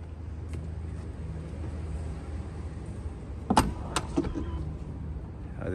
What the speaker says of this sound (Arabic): أبواب شفط